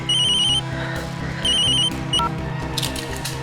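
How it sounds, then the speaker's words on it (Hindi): A telephone ringing indoors in a Hindi television drama, loud repeated electronic trill bursts in a steady ring pattern over background music. "बेटा तो फोन उठा ले, मैं ये सब कर लूंगी।"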